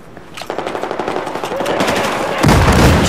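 Rapid automatic gunfire in Battlefield 4, a steady close burst of evenly spaced shots followed by louder, denser firing near the end.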